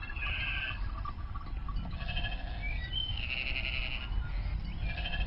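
Sheep bleat repeatedly while grazing in fields, several overlapping calls rising and falling over a steady outdoor background, with no one speaking.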